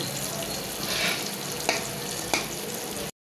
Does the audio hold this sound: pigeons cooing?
no